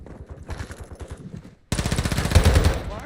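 Machine gun fire in a shooter video game: faint bursts at first, then after a short gap a loud, sustained rapid-fire burst running to the end.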